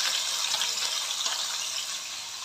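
Water pours and trickles steadily as bitter gourd is squeezed hard by hand to press out its bitter juice, a close, even gushing sound with no talk.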